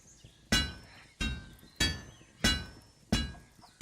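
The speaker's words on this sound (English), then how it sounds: "That little clinking noise? That means that spot is completely done." Metal hammering in the A Township Tale VR game rings out in five evenly spaced, sharp clinks, each one bright and decaying quickly, with quiet gaps between and no voice.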